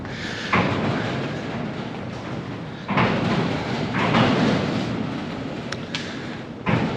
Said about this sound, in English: You'll probably hear the hangar doors rattling around today because how breezy it is.